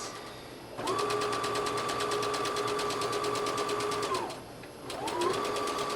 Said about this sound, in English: we're going to zigzag right along the edge to finish those seams